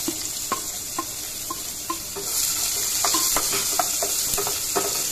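Spice paste sizzles and fries steadily in a pan of hot oil after fish has been fried, with occasional stirring clinks against the pan and a constant close crackle throughout.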